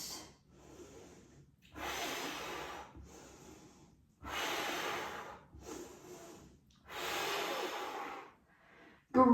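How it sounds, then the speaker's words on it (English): Deep, slow breaths during a Pilates mat exercise, with long, close, airy inhales and exhales alternating in a steady rhythm and no talking. "So you'll have 10 deep breaths."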